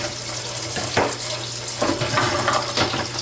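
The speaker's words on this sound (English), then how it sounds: "I'm going to turn on the cold water here. We're going to fill this up with cold water." Cold water from a kitchen tap pours into a canner, a close, loud running stream with intermittent splashy surges and clanks, no talking over it.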